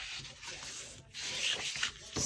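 A bone folder burnishes score lines on paper for a quad folio mini album, a steady dry rubbing and scraping at close range with a brief pause midway, no talk.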